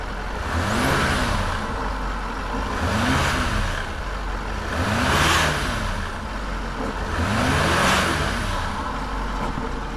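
A Range Rover L405 engine revs in four repeated swells, with air gurgling and whooshing through the throttle body; steady, close and loud, with no talk.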